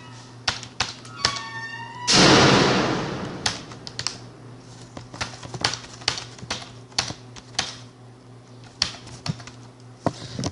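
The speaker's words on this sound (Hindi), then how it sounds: "मैं इसमें भी कुछ टाइप कर देता हूँ।" Typing on a computer keyboard in a quiet room, irregular close key taps in short bursts, interrupted early by a brief loud rushing noise, then steady clicking continues alone.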